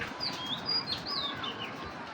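Kaldam pigeons kept in a loft with other breeds, heard as a few faint, soft chirping calls over low background noise, no one speaking.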